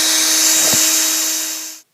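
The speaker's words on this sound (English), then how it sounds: "You will need to take extra precaution when pre-drilling the end trim pieces" A power drill bores pilot holes in small MDF end trim pieces, a loud steady whine running continuously for nearly two seconds before cutting off abruptly.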